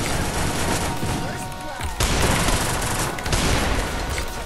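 Dense automatic gunfire from the mobile battle royale game Free Fire, a loud continuous fusillade of rapid shots with brief breaks, heard up close with an excited voice shouting over it.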